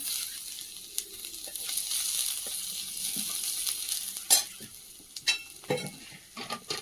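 Black cumin seeds and chopped ginger fry in hot oil in a wok, giving a soft continuous sizzle broken by sharp scraping and clinking spatula strokes toward the end.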